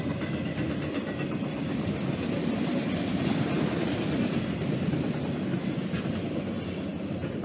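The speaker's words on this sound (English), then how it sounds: "Once again, another short auto rack train." A short auto rack freight train in Pennsylvania rumbles past close by, a steady low roar with faint rhythmic clacking of wheels over rail joints throughout.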